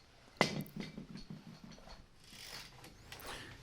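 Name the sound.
socket wrench tightening ball joint nut on BMW MINI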